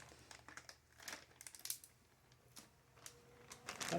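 A plastic Walmart-brand zipper freezer bag holding tomatoes crinkles and rustles as it is sealed, with soft crackling bursts scattered irregularly, close up and without speech.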